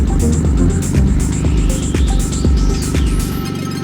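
A modified 2009 BMW 135i converted from twin turbo to a big single turbo with a DCT gearbox runs loud and close, its engine throbbing in rhythmic pulses with rising turbo whine before cutting off.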